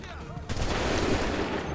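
A sudden musket volley from a line of soldiers in Assassin's Creed 3 bursts out after a brief quiet moment, a loud crackling wall of shots that rolls on and decays, with a voice nearby.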